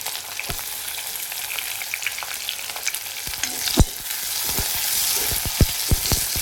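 Onion frying in hot oil in a pan for an okra (bhindi) curry, a continuous close sizzle with a sharp pop or two and louder spoon-stirring clatter toward the end.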